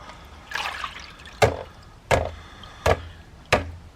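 An old horseshoe crusted with heavy, cement-like concretion is rinsed in a bucket holding a little water, giving a soft wet swish followed by four sharp knocking splashes at a steady pace, close by and alone.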